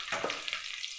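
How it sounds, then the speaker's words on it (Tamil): Garlic frying in oil for a beetroot poriyal, a close continuous sizzle with scraping stirs over about a second. "பூண்டு கொஞ்சம் எண்ணெயில் வதங்கினா தான் மொறுன்னு இருக்கும்."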